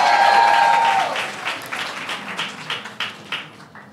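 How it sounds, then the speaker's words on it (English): Audience applauding the hosts at an event celebrating 100 years of women's suffrage in New York State: clapping rises from a crowd, starting under a voice and thinning into scattered claps that fade out. "Let's give them a huge round of applause"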